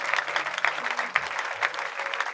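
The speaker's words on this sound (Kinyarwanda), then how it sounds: "wamukomera amashyi menshi cyane" A church congregation in Kigali applauds in a steady, dense burst of clapping, close and lively, with a few voices faintly underneath.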